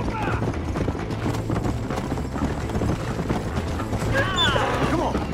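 Horse hooves clip-clopping at speed in the Western video game Red Dead Redemption, a steady rapid patter throughout with a whinny near the end, under continuous game sound.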